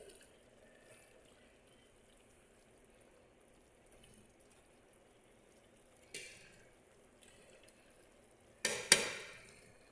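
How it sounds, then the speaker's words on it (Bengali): Chicken cooks with spices in a pan and is stirred. Over a faint, quiet background, two brief scraping stirs are heard, the second louder and longer. "ঢাকনা দিয়ে ঢেকে রাখার পরে আবার একবার নাড়া দিয়ে নিলাম, যেন ময় মশলা সব কিছু চিকেনের মধ্যে যায়।"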